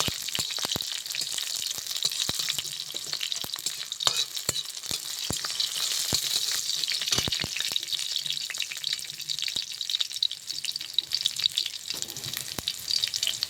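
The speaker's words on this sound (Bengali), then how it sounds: "কাঁচা লঙ্কা, এবার বেশি ভাজবো না, অল্প একটু ভেজে নেব।" Green chilies fry in a hot pan with a steady bright sizzle, punctuated by frequent sharp crackles and spatters and occasional stirring scrapes, close and continuous.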